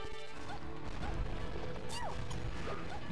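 Super Smash Bros gameplay with repeated up smash attacks: a steady run of sharp crunching hit impacts and whooshing effects over constant game noise, fairly loud and near, with no talk.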